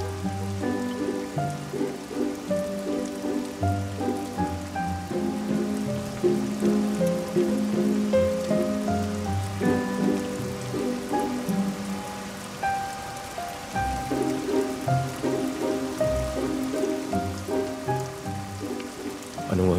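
Steady rain falling in a romantic drama scene, a continuous hiss of drops under a soft music bed that carries through without a break.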